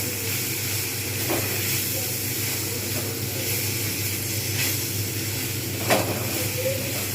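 Shrimp with okra fry in a pan, a steady loud hiss and sizzle with faint stirring clicks.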